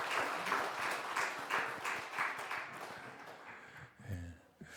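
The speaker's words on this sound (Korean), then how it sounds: "우리 청년부기도 박수 한번 격려해 주시죠" A church congregation applauding, a dense patter of clapping that gradually thins out and fades near the end.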